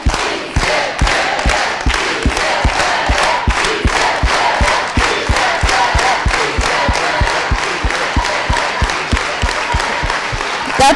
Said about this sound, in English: Let's all do it together with an organized hand clap.